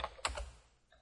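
A few quick keystrokes on a computer keyboard typing a Linux command, close and crisp clicks in a short burst, then a faint tap as things settle.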